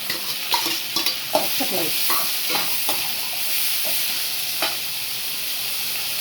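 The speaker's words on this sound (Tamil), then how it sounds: "வெங்காயம் வதங்கிடுச்சு, சுண்டல் போட்டுக்கலாம்." Green gram sundal is stirred into softened onions in a hot pan, a steady sizzle with scraping spatula strokes, and a voice speaks briefly over the cooking.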